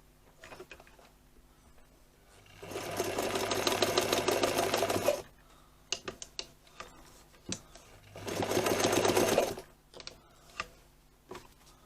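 A zig zag sewing machine stitches in two loud, steady bursts of rapid whirring and clatter, each lasting a couple of seconds, separated by scattered clicks and handling knocks.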